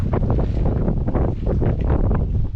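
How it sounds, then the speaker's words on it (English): Strong wind buffets the microphone in a continuous, loud rumbling roar with gusty swells, outdoors in Nazca, Peru. "It's really windy here"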